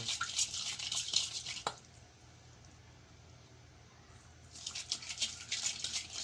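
Close, brisk scraping and stirring as garlic marinade for milkfish is mixed, in two busy bursts separated by a quiet pause.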